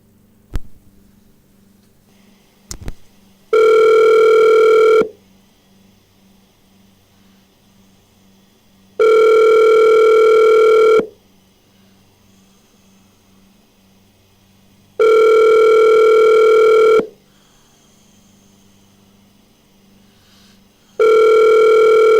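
A telephone ringback tone repeats on a call nobody answers: four long, loud steady buzzing rings about every six seconds, with quiet line hiss between them and a couple of sharp clicks just before the first.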